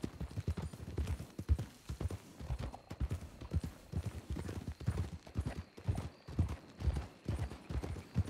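Horse hooves clop in a steady galloping rhythm while riding in a horror-themed ranch video game, the repeated beats fairly close and prominent with a soft ambient bed behind them.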